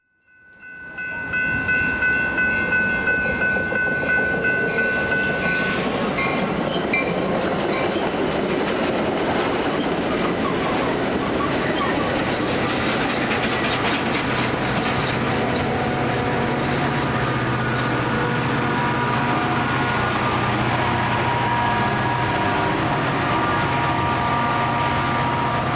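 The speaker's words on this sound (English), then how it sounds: "an inbound Metro train with a standard F40" An inbound Metra commuter train hauled by an F40PH-3 diesel locomotive passes close by with a loud, sustained rumble and clatter of rail cars, and a brief tonal horn-like sound near the start.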